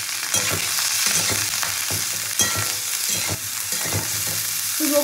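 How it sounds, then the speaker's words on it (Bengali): Broccoli lightly frying in a pan with turmeric and salt, a close, steady sizzle broken by repeated scraping stirs of a spoon, without any speech. "তো ব্রোকলিটা একটু হালকা করে ভেজে দেবো।"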